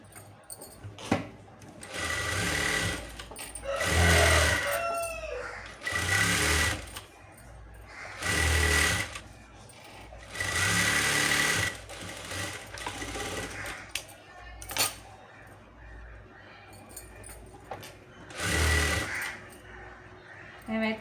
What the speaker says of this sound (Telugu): ముందు నేను నడుము పట్టిని అయితే స్టిచ్ చేసుకుంటాను.